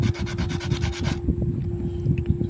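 Fine 500 to 1000 grit sandpaper rubbing against a handmade frog fishing lure, a close, rhythmic rasping that strokes back and forth, then continues as lighter, softer scrubbing.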